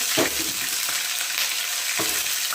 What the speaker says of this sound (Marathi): आता यामध्ये टाकत आहे मोहरी जिरं आता हे टोमॅटो मी अर्धे कापलेले होते ते यामध्ये फोडते